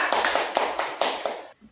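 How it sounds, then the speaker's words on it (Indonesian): A class claps for a presenting group in a short burst of quick, fairly close applause that stops abruptly just before the end. "Kita kasih tepuk tangan untuk kelompok 2."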